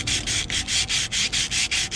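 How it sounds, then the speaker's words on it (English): 80-grit sandpaper scrubs corroded metal on a truck transmission cooler line in fast, even back-and-forth strokes, about eight rhythmic rasping passes up close. "Knock off some of the dirt and corrosion. Make it nice and smooth again. This is just some 80 grit that I've had lying around."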